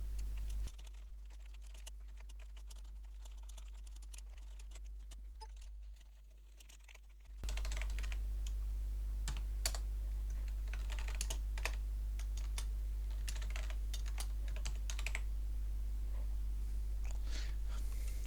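Computer keyboard typing of a letter, played back at sixteen times speed, forms a dense rapid patter of key clicks, close and steady, after a quieter stretch, with no talk.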